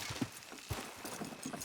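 Horses in Red Dead Redemption 2 straining to pull a load, their hooves clip-clopping in a few distinct, uneven thuds close by over a low ambient background.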